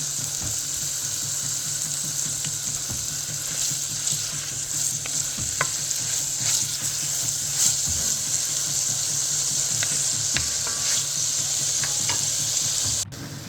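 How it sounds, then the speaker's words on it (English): Onion, scallion, thyme and sweet pepper sautéing in a pot for black bean and lentil soup, a loud, steady close sizzle with scraping stirs throughout and no one talking. "Some onion, scallion, thyme, sweet pepper. Just gonna saute all of that."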